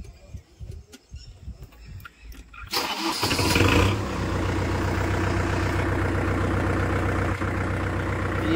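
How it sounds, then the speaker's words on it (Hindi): A Kubota tractor engine on a farm cranks and catches, then settles into a steady, close diesel idle with a fast, even rumble that runs to the end. "ये अपना ट्रैक्टर स्टार्ट हो चुका है।"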